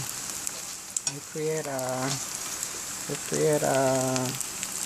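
Food frying in a pan, a steady crackling sizzle throughout, with two brief tonal voiced sounds rising over it.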